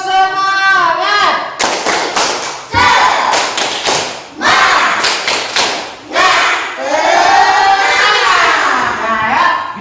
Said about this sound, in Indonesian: sekarang coba kita tepuk semangat dulu